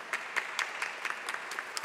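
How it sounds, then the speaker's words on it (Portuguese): An audience applauds at a formal ceremony in a legislative hall, a brisk sustained clapping with sharp individual claps standing out, fairly distant and soft. "Bastante palmas, por favor"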